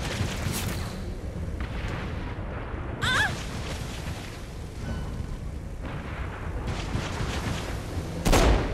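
Gunfire and booms in the game Saints Row: Gat Out of Hell rumble through a noisy action scene, with a sharp burst near the start and a heavy blast near the end, mostly loud and close.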